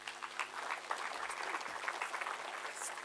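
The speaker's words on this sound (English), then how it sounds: "So give a big round of applause for Deirdre." Continuous applause from a conference audience welcoming a speaker to the stage at a tech event, a fairly distant, even wash of clapping lasting a few seconds.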